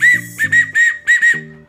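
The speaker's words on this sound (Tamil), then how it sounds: "வீட்டில் எப்படி தான் இந்த மாதிரி விசில் அடித்து தொல்லை பண்ண காலங்களும் உண்டு" A toy whistle is blown in five or six short, shrill, warbling toots of equal loudness, close and clear with no other sound around them.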